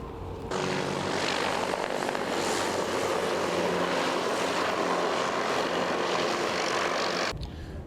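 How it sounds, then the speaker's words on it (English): A Little Bird military helicopter flying at a special forces demonstration, its steady rotor and engine drone holding loud and even for several seconds before cutting off, with no talk. "This Little Bird has a crew of 2, can carry up to 6 passengers, and normally cruises at 80 knots."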